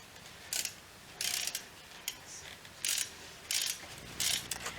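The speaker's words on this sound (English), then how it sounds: "tighten these nuts up" Quiet ratcheting bursts as fuel rail nuts are tightened on Integra fuel injectors, each short clicking run separated by brief pauses, close and faint over a low background.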